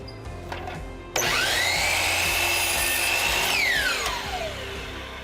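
Power saw spinning up and trimming the end off a piece of wood, a sudden loud whine that holds steady through the cut, then winds down with a falling pitch, heard close and alone.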